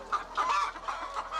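Hens on a poultry farm clucking in a steady run of short, repeated calls, moderately close and alone without any talk.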